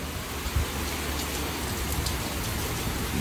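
Steady rain falling outdoors, a constant soft hiss of drops on surfaces with no voices, faint and even throughout.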